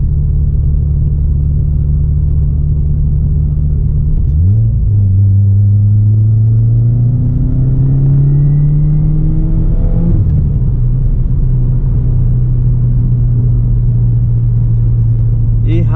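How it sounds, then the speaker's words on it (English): Engine of a 2016 Subaru WRX rumbling inside the car during a drive, revving up in a long rising sweep, dropping back at a shift and climbing again, loud and steady throughout with no voices. "later I'm gonna step on the gas so you can hear the pops a little better."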